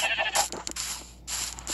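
Sheep bleating in the mobile edition of Minecraft, several short, close, fairly loud bleats in a burst with brief gaps between them, heard without talk.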